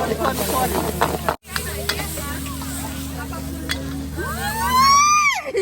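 Pad thai stir-frying in a pan at a Thai festival food stall, a steady loud sizzle and scraping stir under chatter and background voices, with a brief dropout and a rising whine near the end.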